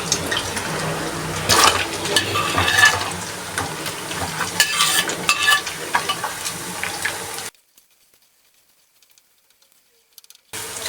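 Onions drop into hot oil and fry with a loud bubbling sizzle and stirring for about seven seconds, then the sound cuts to near silence.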